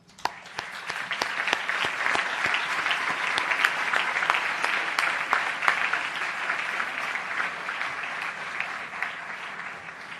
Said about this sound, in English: Let's please give the teachers a round of applause.